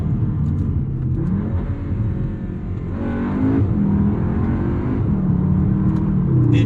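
A Cupra Formentor VZ2 pulls hard under acceleration, its engine a steady close rumble with a rising note as revs build, heard from inside with no talking.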